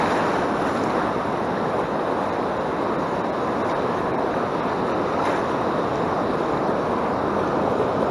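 Surf on the Oregon coast roars steadily nearby, a constant dense wash of breaking waves mixed with wind buffeting the microphone, with no voices heard.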